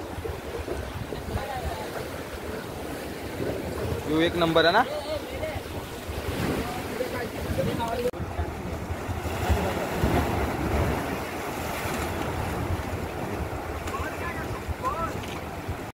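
Sea waves wash in on the beach at Ambolgad, a continuous rushing surf mixed with strong wind buffeting the microphone, while people chat nearby over it.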